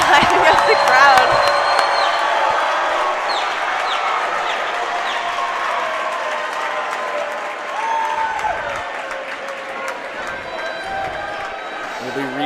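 A high school boys' basketball crowd in a gym cheers and claps loudly as a player hypes them up, a sustained roar with whoops and squeaking shoes under a commentator's voice.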